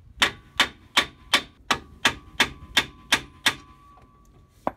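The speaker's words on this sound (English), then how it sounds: "just grab yourself a hammer, give it a little bit of love on the side" Ten sharp metallic hammer blows ring out in a steady rhythm against a tie rod end on a Dana 30 axle, knocking it loose, each strike close and loud with a brief ringing decay.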